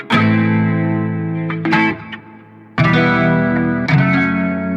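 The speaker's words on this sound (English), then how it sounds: "These are just me doing little short strums, just little short kind of muted strums." Short, muted rhythm guitar strums are layered into a beat, run through distortion and chorus-like effects. Chunky repeated chord hits with a brief thinner gap midway, loud and upfront with no voices.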